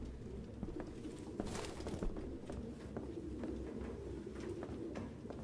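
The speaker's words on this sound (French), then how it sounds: "Il y a des pigeons de On partout" Pigeons coo softly in Detroit: Become Human, repeated low throaty calls over a steady ambient background with faint shuffling, and no talking.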